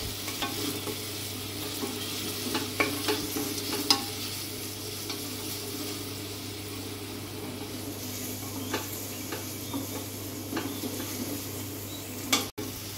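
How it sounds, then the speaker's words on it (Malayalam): Onions frying in a pan while a utensil stirs them, with a steady background sizzle and scattered scraping and tapping clicks, plus a sharp knock near the end and no talking. "ഇളക്കി കൊടുക്കാം."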